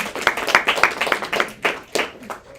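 An audience at a live poetry event claps in a steady, uneven patter of many hands, fairly close and loud, with a bit of crowd voice mixed underneath.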